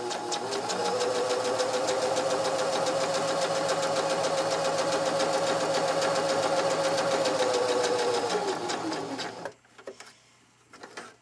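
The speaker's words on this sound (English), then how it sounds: "Stitch all the way down the center of the ribbon." A sewing machine set to its longest stitch runs straight down the center of a ribbon in one long, even, close whir lasting about nine seconds before stopping, followed by light clicks.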